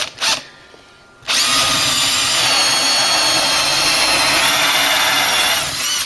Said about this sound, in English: just to give you some drill action